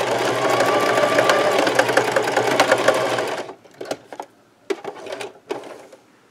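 A sewing machine runs a steady, fast back-and-forth stitch on a scrub cap for about three seconds, then stops, leaving a few short bursts and clicks.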